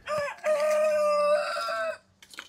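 One rooster in a backyard lets out a single loud, close crow lasting about two seconds, clear and alone, with faint clucking just after.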